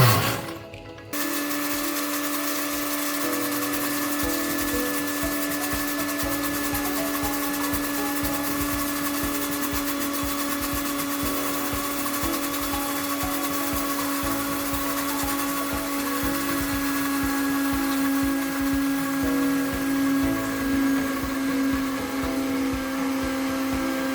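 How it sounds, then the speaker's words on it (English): A blender runs continuously at its highest speed, emulsifying egg for homemade mayonnaise, a steady loud whir with a constant motor hum after a brief start. "We blend at the highest speed"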